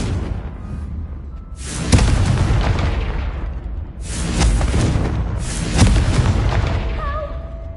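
Confringo fire spell blasts in Hogwarts Legacy, three loud booming explosions a couple of seconds apart, each with a rumbling decay, alone and close.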